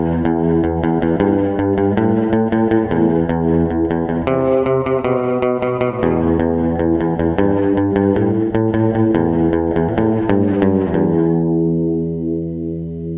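Instrument run through an FX40 soft focus pedal with modulation and mix maxed and other controls turned down: loud, shimmering sustained chords in a steady repeating pattern, ending on a long decaying tail.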